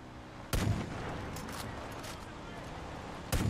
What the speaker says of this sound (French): Moi je vais les éliminer assez rapidement avec le sniper.